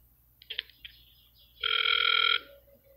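A telephone rings during a phone call, a brief electronic trill followed by a sustained, buzzing ring tone of under a second, fairly close, with a few soft clicks beforehand and no talking.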